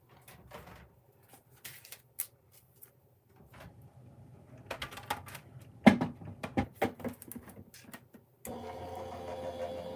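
Electronic cutting machine cutting paper card pieces, with mechanical whirring, clicks and a buzzing motor, quiet at first, then busier with sharp taps and a steady loud hum in the last stretch.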